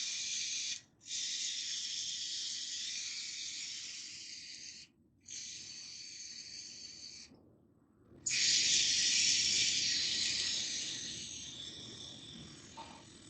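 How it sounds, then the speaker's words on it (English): WD-40 sprayed onto the rear differential cover bolts of a 2003 GMC Sierra, three steady hissing bursts of a few seconds each with short gaps between, close and clear, the last burst louder and longest. "let's go ahead and just hit all the bolts with WD-40 and let them soak for a minute"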